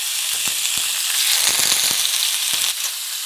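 Loud, continuous sizzling of pre-salted tofu frying in hot oil in a pan, with occasional sharp spits and pops over the dense crackle, close up and without talk.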